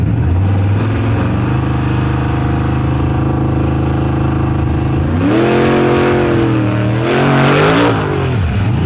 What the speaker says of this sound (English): hear the kind of muted thump of that big Hemi horsepower, that Brad Anderson Hemi 565 cubic inches going to work here on the tarmac